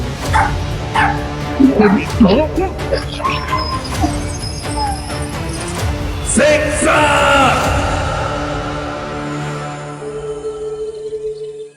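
A dog barks, yelps and whimpers in short bursts at close range amid busy, dense sound, the cries tailing off into a fading tone near the end.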